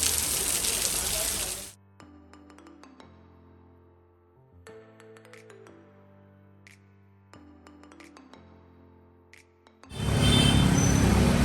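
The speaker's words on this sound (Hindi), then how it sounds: "अरे जोर की बारिश।" Heavy rain in Goa pours as a loud, dense hiss at the start, cuts out into a quieter stretch of tonal music-like sound, then returns just as loud and close at the end.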